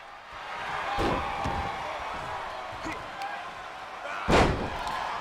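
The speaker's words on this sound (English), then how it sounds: "Shibata slamming the back of Tyson's head into the mat before locking in that armbar." A WWE 2K22 wrestler's head is driven into the ring mat, giving a few heavy thuds against crowd noise in the game, the loudest slam landing near the end, with commentary running underneath.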